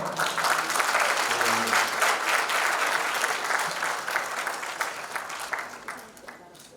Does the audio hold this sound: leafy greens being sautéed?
no